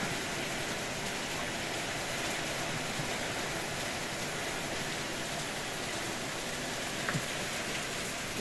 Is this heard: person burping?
no